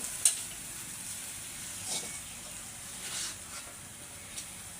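Pumpkin-leaf ghonto with a fish head, nearly done frying in a pan, gives a faint, steady sizzle with a few soft stir-like bursts, heard alone without talk.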